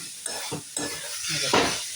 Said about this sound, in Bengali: আমার বাঁধাকপিটা ভাজা হয়ে গেছে